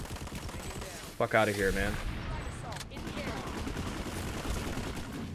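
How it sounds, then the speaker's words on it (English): Automatic gunfire in the online shooter game Planetside 2, bursts crackling under a man's loud, frustrated talk, with a sharp sudden burst partway through and steady battle noise throughout. "How many times do I have to shoot somebody?"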